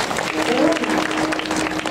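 Loud, steady applause from an audience at a religious kirtan gathering during a week-long harinam saptah, sustained throughout with a faint tonal hum underneath.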